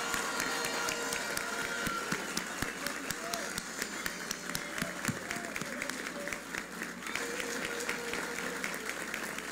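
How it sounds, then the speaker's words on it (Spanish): Crowd applause at a political gathering, moderately loud and continuous with dense clapping throughout, some sharper individual claps standing out. "que le demos un aplauso por la democracia de nuestro país."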